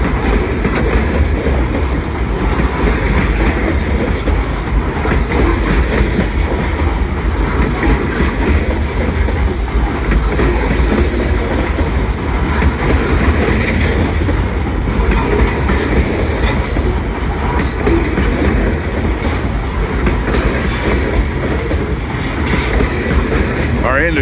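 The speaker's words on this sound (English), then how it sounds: "And the train unit coming up on throttle." A rail unit throttles up alongside a stalled track tamper on the main line, its heavy steady engine roar and rolling clickety-clack of wheels filling the scene loudly and continuously without pause.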